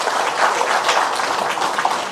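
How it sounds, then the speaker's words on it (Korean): A large audience claps steadily in a hall to welcome the abbot of Beomeosa temple and visiting monks at a Buddhist dharma ceremony, a dense sustained wash of applause with no talk over it. "여러분 다시 한번 큰 박수로 환영해 주시기 바랍니다."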